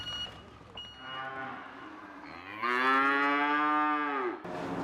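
Dairy cows moo, with a short low call followed by a long, loud, drawn-out moo nearby, on a cold winter dawn.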